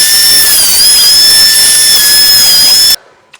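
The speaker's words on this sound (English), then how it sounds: "put the legs through the thicknesser, bring them down" A thicknesser milling wooden workbench legs roars loudly and steadily with a high, piercing whine, then cuts off abruptly near the end, leaving a faint tail of quiet knocks.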